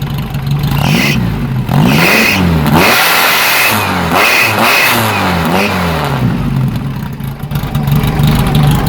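A Volkswagen Beetle engine with a new Type 4 EMPI muffler revs repeatedly in quick, loud bursts, rising and falling in pitch over a throaty exhaust rumble, without talk.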